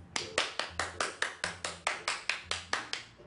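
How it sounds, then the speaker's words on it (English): Sharp claps ring out at a steady, even beat, about a dozen in quick succession, close and fairly loud. "Round of applause for you"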